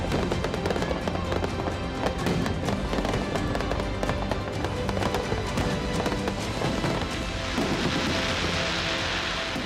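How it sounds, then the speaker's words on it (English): Halloween evening fireworks display over the river near the Peace Bridge in Derry, Northern Ireland: a continuous, dense barrage of crackling bursts and booms, loud and sustained throughout, with a brighter crackling stretch toward the end. "A spectacular fireworks display down by the river near the Peace Bridge."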